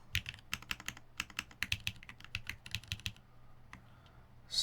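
Fingers type on a mechanical keyboard with tactile switches and GMK keycaps, tapping close up in quick, uneven bursts of crisp clacks. A short pause follows, then one louder clack at the end.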